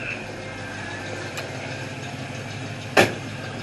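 A 1968 Ford Mustang idles through stock mufflers with its exhaust still unwelded, a steady, fairly quiet low rumble running throughout, broken by a brief sharp click or knock near the end.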